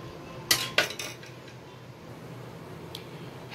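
A whisk clinks against a bowl while stirring readymade falooda mixture, two sharp close metallic hits followed by quieter faint scraping over low background hum, no talking.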